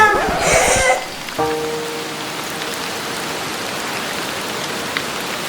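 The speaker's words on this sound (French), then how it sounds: "Oh, il pleut." Rain falling steadily as a soft, even hiss that continues alone after a brief burst of other sound at the start.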